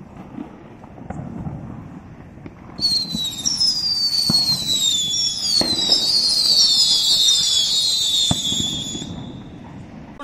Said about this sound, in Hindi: सेलिंग क्रैकर्स की ये लड़ी है, इसको जला के देखते हैं हमारी ये लड़ी है कैसी चलती है।